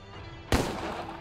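A single sharp gunshot in the video game Empire of Sin, a sudden loud crack over a steady background hum, with a brief decaying tail.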